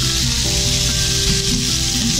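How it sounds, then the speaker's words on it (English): Pork for chicken and pork adobo browns in a pan over high heat, giving a loud, dense, continuous sizzle close up with no break. "It's above medium, so it looks like it's a high because I'm just browning the meat."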